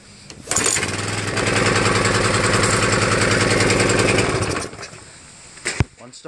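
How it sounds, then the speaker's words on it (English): An old gas power washer engine is pull-started and runs: it catches quickly into a loud, close, rapid chugging that holds for about four seconds before stopping, with faint clatter afterward. "this is a power washer that I got for free. It's old, but guess what? It runs."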